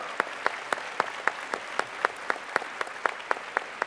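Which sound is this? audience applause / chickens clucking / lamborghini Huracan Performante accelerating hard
audience applause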